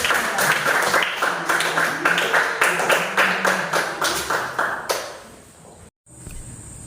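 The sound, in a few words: class clapping after a presentation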